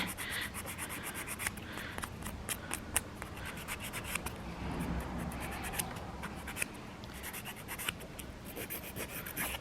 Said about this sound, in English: Make sure you get all of that nice and filed.